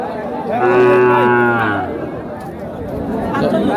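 A calf at a cattle market gives one loud, drawn-out moo lasting about a second, with a busy crowd chattering around it.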